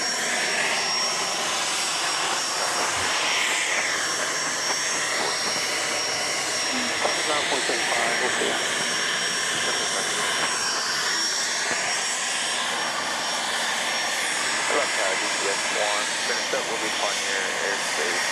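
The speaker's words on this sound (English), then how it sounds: "Still testing this single-engined jet next to us" A single-engine jet runs under test at Dallas Love Field airport, a steady loud roar filling the background while people talk nearby and airport noise carries on throughout.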